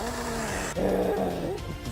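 A dog gives a few short barks and yips, mid-loud, over a dense, noisy background with a steady electronic tone at the start.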